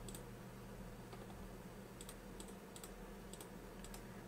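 Faint computer keyboard clicks, a handful of sparse distinct key presses over steady background hum, with no voices.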